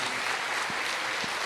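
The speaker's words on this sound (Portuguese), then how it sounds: "Pode aplaudir o Senhor" Church congregation applauding during a Portuguese-language sermon, a steady wash of many hands clapping with a couple of low thumps, even in level throughout.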